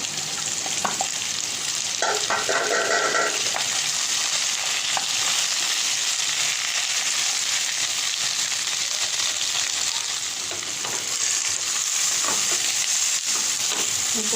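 Okra and pumpkin frying in a pan give a steady, dense crackling sizzle up close, with occasional light stirring and scraping.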